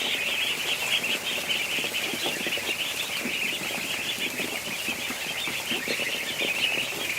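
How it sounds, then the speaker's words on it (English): Young ducks in a yard make a steady, dense chorus of high peeping calls with rough, immature attempts at quacking, continuous and fairly close throughout. "We've got a duck that's trying to quack."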